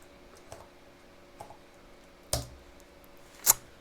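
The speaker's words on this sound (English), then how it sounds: "We simply type example and then we type mean." A few isolated clicks of a computer keyboard, spaced out and fairly faint, as someone types short words into RStudio in an otherwise quiet room.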